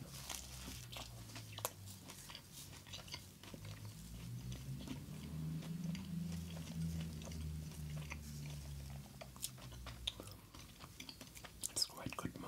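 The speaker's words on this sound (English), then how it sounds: "if you first want to eat some of the plain Kreppel doughnut" Someone chewing a plain Kreppel, a Berliner doughnut, up close with soft, moist mastication and occasional small bites, steady and quiet throughout.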